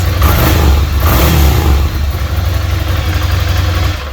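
A 2017 Ducati Scrambler 800 Cafe Racer revs loudly and close through a Termignoni exhaust, a deep, throaty rumble that swells and dips in steady pulses for about four seconds.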